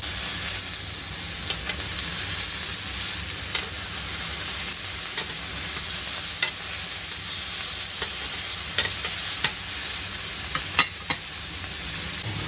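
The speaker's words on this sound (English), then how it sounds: "We're going to let them grill a few minutes for the nice coloration" Venison and pheasant sausages sizzle in a hot pan, a steady, dense frying hiss that runs throughout with occasional small pops and crackles, close and continuous with no talking.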